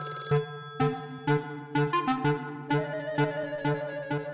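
An indoor landline telephone rings in repeated electronic bursts, a regular pattern of bright tonal trills with short gaps, loud and close, with no talking over it.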